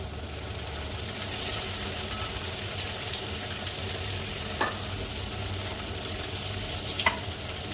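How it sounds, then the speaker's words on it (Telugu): Tomatoes stirred into a frying cauliflower and prawn masala curry in a pan, a steady close sizzle running throughout with a few soft scraping knocks from the stirring, no talking. "ఇప్పుడైతే టమాటా వేసేసుకున్నాం. ఇట్లా కలిపేసుకోండి, తొందరగా మగ్గిద్ది."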